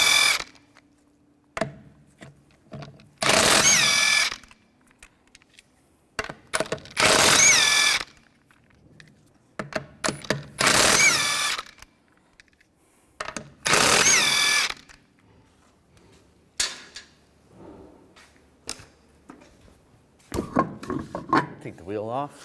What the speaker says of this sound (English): take the lug nuts off.